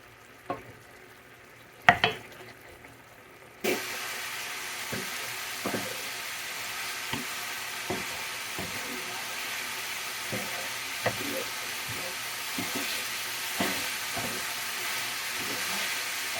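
Steak fried rice ingredients fry in a pan, a steady broadband sizzle that starts abruptly after a few quiet seconds, with repeated stirring scrapes and clicks of a utensil over the hiss.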